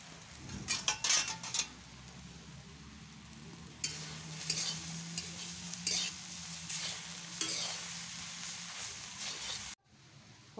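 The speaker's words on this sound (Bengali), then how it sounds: "শাক ভাজাটা প্রায় হয়ে আসছে" Leafy greens stir-frying in a pan sizzle steadily under repeated scraping stirs from a utensil, close and fairly quiet, before cutting off near the end.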